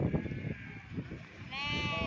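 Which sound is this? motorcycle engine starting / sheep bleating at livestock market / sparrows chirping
sheep bleating at livestock market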